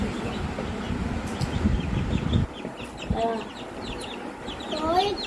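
Young chicks let loose at a home, clucking and peeping in short high chirps near the mic, with a loud low rumble of handling noise in the first half.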